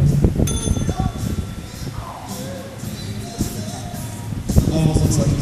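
A bell rings sharply to start an arm wrestling match at a live event, struck once early and again near the end over crowd noise and voices.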